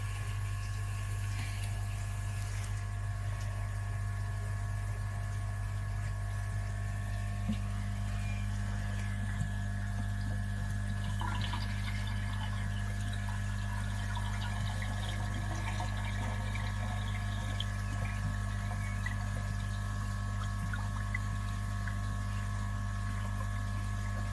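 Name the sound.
water pumped through pond filter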